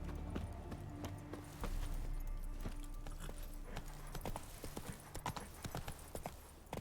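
Horse hooves clip-clop in The Witcher 3, a steady trotting rhythm of hoof strikes over game ambience and low rumble, fairly close and continuous throughout without talk.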